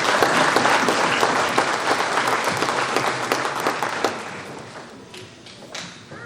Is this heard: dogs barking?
no